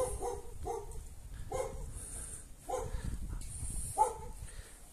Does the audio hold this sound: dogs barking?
yes